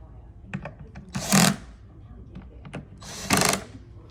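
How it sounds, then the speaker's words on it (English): Power tool driving screws into a bed frame with a gas-lift base, two short whirring bursts separated by light clicks and handling knocks, close up with no talk. "Then you turn over to fasten these screws."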